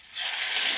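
Water poured into a hot pan of crab curry bursts into a loud, sustained steam hiss that swells within a fraction of a second and holds briefly, close up, with no voices.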